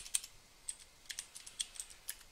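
Someone types on a computer keyboard during an Arch Linux install in VirtualBox, giving a quiet, uneven run of light key clicks, about a dozen taps with no talking.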